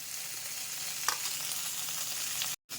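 Ingredients for an Andhra-style chutney fry in hot oil, a steady close broadband sizzle that runs without pause, with a brief spatter or stir near the middle and a short cut out near the end.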